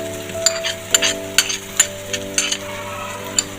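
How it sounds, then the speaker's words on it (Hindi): Ginger garlic paste sizzles as it goes into a pan of onions frying for chicken biryani, with a steady hiss under repeated scraping and clinking stirs of a spoon against the pan. "अब हम इसमें अदरक और लहसुन का पेस्ट डाल देंगे"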